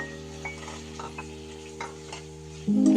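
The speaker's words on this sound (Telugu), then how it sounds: "ఈ ప్యాన్లో బటర్ వేసుకున్నానండి ఇప్పుడు దీనిలో పన్నీర్ పీసెస్ మనం కట్ చేసి పెట్టుకున్నాం కదా ఆ పన్నీర్ని వేసుకొని వేయించుకోవాలి" Paneer cubes fry in melted butter in a pan, a soft sizzle under a steady electrical hum, with light utensil clicks and taps on the pan, then a louder burst at the very end.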